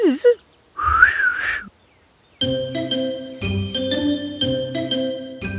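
A brief, wavering whistle of about a second, after a short pause, gives way to bright, bouncy music that continues to the end.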